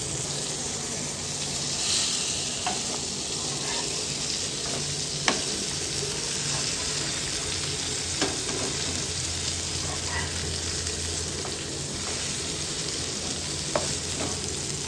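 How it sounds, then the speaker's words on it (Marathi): Kusre fish fry in hot oil for a Malvani fish fry, giving a steady, dense sizzle that continues without break at close range, with occasional small pops and stirring sounds. "कुसरे तेलात जायला तयार."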